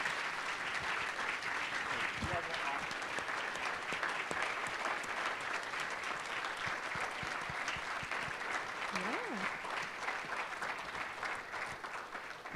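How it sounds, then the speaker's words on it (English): Sustained audience applause for a panel of alumni speakers at an interfaith leadership event, dense steady clapping filling the room for about twelve seconds and tapering slightly at the end, with a faint voice briefly audible. "let's give them a big round of applause"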